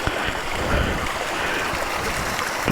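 Rushing water from a jungle waterfall on an offroad ride near Barabakhara in Bargarh district, a steady broadband roar that fills the whole clip without pause, no voices.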